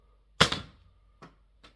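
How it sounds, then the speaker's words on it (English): An elite foam toy dart hits a wall with a sharp, short thud, followed by two lighter taps as it bounces and settles, close and quiet. "here's what an elite dart sounds like, bounced off the wall"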